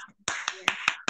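Applause for a speaker at an Indonesian women's program: five sharp, close claps at an even rhythm, loud and clear against a quiet background.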